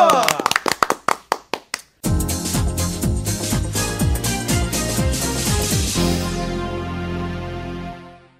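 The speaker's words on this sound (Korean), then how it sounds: "박수." A handful of sharp, separate hand claps sound up close in a Korean sports talk-show studio, ending after about two seconds as loud music takes over.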